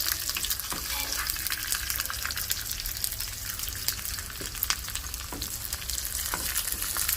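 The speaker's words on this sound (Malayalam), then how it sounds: "ചെറിയ ഉള്ളി വെള്ളുള്ളി വറുത്തിരുന്നു അതിനകത്തേക്ക്." Shallots and garlic sizzle steadily in hot coconut oil with curry leaves while a Kerala-style pork tripe curry is being made, a dense, close crackle of frying with no voices.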